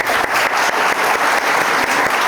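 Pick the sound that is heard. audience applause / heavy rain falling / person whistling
audience applause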